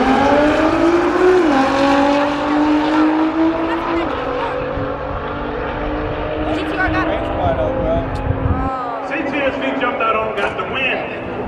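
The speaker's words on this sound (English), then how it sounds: "Left lane is that he got a race car coming out" A race car roars and accelerates at a drag race where car enthusiasts are racing, loud and close, with engine pitch rising, crowd noise and several cars passing, and people talking over it.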